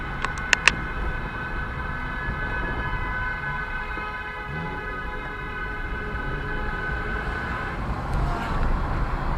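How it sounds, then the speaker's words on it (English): A car horn blares in one long, sustained, steady tone for several seconds over traffic noise, with a couple of short clicks at the start. "That was a great long honk."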